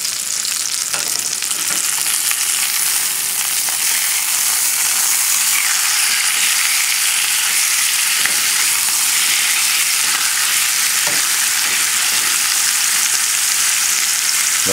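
A Cornish hen fries in a pan, giving off a loud, steady, close sizzle with fine crackling spatter that continues unbroken throughout.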